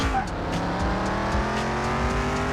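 Drag car engine in Car Mechanic Simulator revving up through steadily climbing pitch, with a brief shift and a dip, then pulling hard again as a loud, close engine roar.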